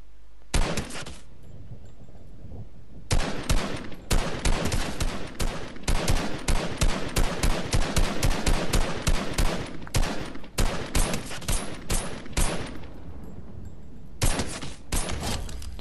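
Rapid bursts of automatic gunfire in a no-build shooter video game ring out loud and close, firing in repeated volleys with short pauses between them, with no talking.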